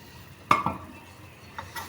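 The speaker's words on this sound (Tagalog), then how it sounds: "Kailangan po i-mix po natin ng konti yan." Food is stirred in a pan with a couple of sharp scraping clinks of a utensil against metal, then softer scrapes, close and brief with no talking.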